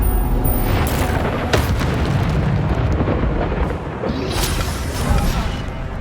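Incendio fire spell cast in Hogwarts Legacy, a loud rushing whoosh and boom of flame bursting over a dense, roaring game soundscape, with a second swelling burst near the end.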